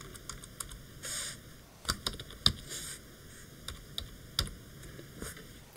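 Rapid, irregular keystrokes on a computer keyboard, close and crisp, with bursts of clustered taps and brief pauses over a faint steady hum.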